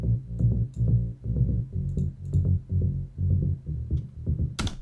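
Bass layered with the kick drum in an electronic track's drop: a dense, low pulsing pattern of punchy hits with sustained bass tones, steady and loud, ending in a bright splash near the end.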